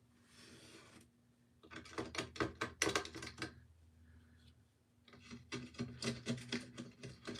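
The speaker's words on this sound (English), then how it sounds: "It scrapes off easy enough. Just scraping is a pain." Paint scraped off a glass window pane with a scraper, heard as bursts of harsh rasping strokes in quick rhythmic runs, close and fairly loud, separated by a brief quiet pause, with no talking.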